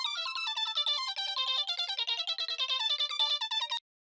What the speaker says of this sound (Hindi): देखा फोन बजा